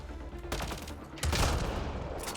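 Rapid gunfire bursts from the video game Mass Effect: Andromeda, loud and close, with two dense volleys separated by a brief lull.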